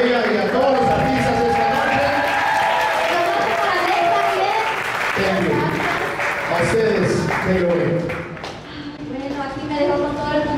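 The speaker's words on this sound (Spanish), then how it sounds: "por favor, el aplauso que ustedes le brinden a ella y a todos los artistas" Audience applause at a party show, broad and steady clapping from a crowd filling the whole stretch, briefly dipping near the end, with voices mixed into the noise.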